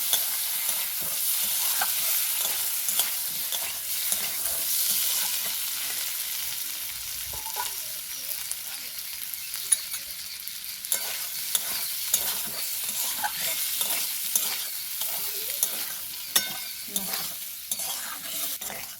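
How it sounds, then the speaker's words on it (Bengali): Boiled potatoes sizzle with onions and fried green chillies in a pan, a continuous close frying hiss punctuated by regular scraping and tapping as the mixture is stirred. "এখন আমি দিয়ে দেবো সেদ্ধ করা আলু আলুটাকে ভালো করে পেঁয়াজের সাথে কষিয়ে নেব"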